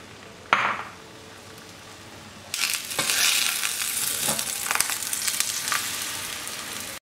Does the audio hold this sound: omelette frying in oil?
yes